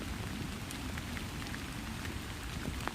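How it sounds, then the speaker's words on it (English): Steady rain falls outside, a dense continuous patter of drops on surfaces with occasional sharper individual hits, even and unbroken throughout with no voices. "it's raining, but you can hear it"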